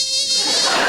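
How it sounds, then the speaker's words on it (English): A mosquito buzzes close by in a continuous whine, high and steady for about a second, alone with no other sound. "You don't get more dangerous than a mosquito"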